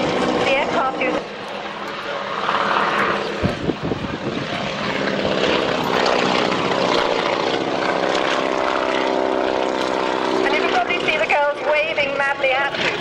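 Propeller aircraft perform a flying display at the RAF Waddington airshow in 1993, droning engine and propeller buzz rising and falling as planes pass, with a commentator's voice carrying over the public address at times.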